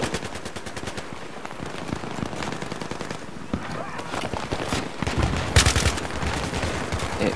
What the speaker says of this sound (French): C'est quoi ce cadence de tir de ouf